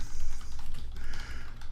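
Someone types quickly on a computer keyboard, a dense stream of close key clacks in a steady rhythm.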